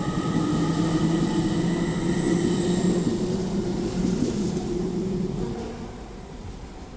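A train rumbles through Manchester Victoria station, a steady loud roll of wheels and motors that eases off slightly toward the end, with no voices over it.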